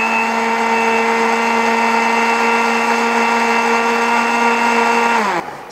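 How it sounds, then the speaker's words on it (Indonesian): A countertop blender purees a healthy drink until smooth, running as a loud, steady motor whine throughout before spinning down abruptly at the end. "Kita blender"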